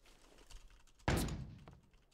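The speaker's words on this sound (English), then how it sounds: "flashbang" A flashbang grenade goes off in the shooter game PUBG, one sudden sharp bang that fades over about a second against an otherwise quiet background.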